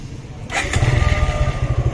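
A motorcycle fitted with a remote-control security system starts up after a short quiet lead-in, then settles into a steady, close, loud idle.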